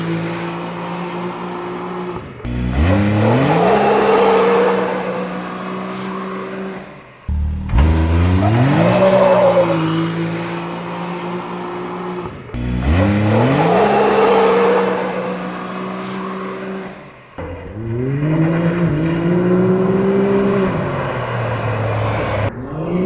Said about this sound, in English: You can hear and see the difference between tuned, or between stock and then after it was tuned.